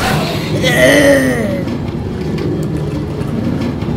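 Rattling, clattering Minecraft minecarts roll on steadily in a mineshaft while a game tone warbles briefly near the start; loud and continuous, with no one talking.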